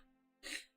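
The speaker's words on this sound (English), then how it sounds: "They heard me sneeze" A single person sneezes once, a short sharp burst close to the microphone over a faint steady hum, during a Minecraft gaming session.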